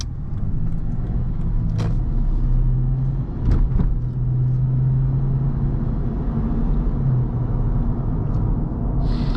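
A 2012 Lexus IS250 AWD drives and accelerates from inside the cabin, giving a steady low engine and road rumble with a faint rising tone and a few soft clicks, and no talking.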